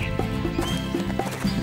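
A horse neighs as a sound effect in a children's story about a salt merchant, a short wavering whinny over a steady musical background, with faint hoof-like clops.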